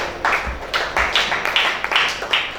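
A church congregation at a Sunday service claps in a brief burst, several loud, sharp clap clusters following one another closely in a reverberant room.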